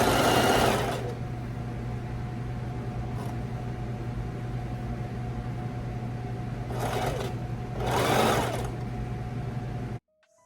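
A sewing machine stitches a custom closure wig, its steady motor whir running continuously for about ten seconds with a few louder bursts of noise, and no talking over it.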